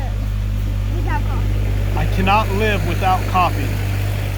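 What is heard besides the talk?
tractor engine driving past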